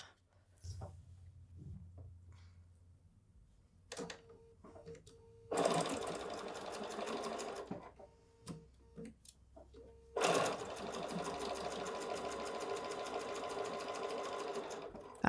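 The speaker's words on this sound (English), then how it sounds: "I'm going to stitch these down now." A sewing machine stitching fabric for small patriotic pillows runs in two rapid, rattling bursts separated by quiet pauses and a few soft handling clicks.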